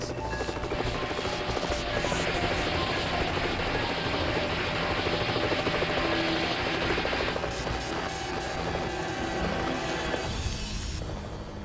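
A helicopter hovers close by a power line during live-line work, its engine whine and rapid rotor chop loud and continuous with a mechanical rattle throughout.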